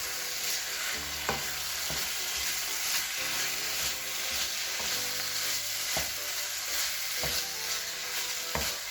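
Japanese curry with tomato paste frying and being stirred in a pan: a steady low sizzle broken by periodic scraping and knocking of a utensil against the pan, fairly quiet and close, with no voices.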